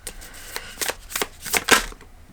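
A deck of tarot cards being shuffled up close, a run of crisp riffling bursts growing louder toward the end, with no voices.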